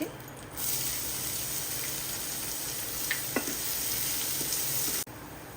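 Chopped onions frying in a pan of hot oil for a dhaba-style Odia egg masala, a steady close sizzle with faint stirring clicks and a brief clatter near the end.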